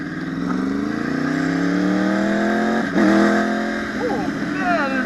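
A 2014 Yamaha YZF R1 1000cc supersport motorcycle accelerating hard, its engine note climbing steadily in pitch over several seconds, dropping at a gear change, then rising again, loud and close.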